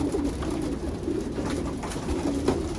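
Racing pigeons coo steadily inside a loft used for colony breeding, a low repeated warbling close to the microphone with a faint background hum and no talking.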